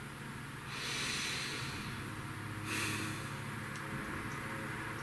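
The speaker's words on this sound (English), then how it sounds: "Please take a nice deep breath." A slow, deep breath drawn in and let out close to the mic: a long airy inhale followed by a hissing exhale, then a second softer breath, all quiet with no talking.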